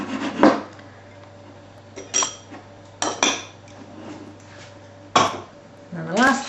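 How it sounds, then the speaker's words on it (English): A spoon clinks and scrapes around a bowl while grated Parmesan and smoked paprika are stirred into a topping, in a handful of distinct close clatters separated by pauses, with a brief murmur near the end. "Give it a good mix up so you don't have big clumps of smoked paprika"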